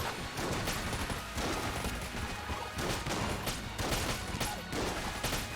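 Rapid bursts of gunfire from the shot grubber weapon in Enter the Gungeon, dense volleys of sharp shots cracking in quick succession with brief gaps, loud and continuous.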